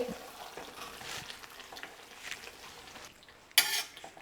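Pork roast in the style of Idukki, dry-fried with ground pepper and curry leaves, crackles with a steady low sizzle while a spoon scrapes through it, capped by a sharp louder burst of frying near the end.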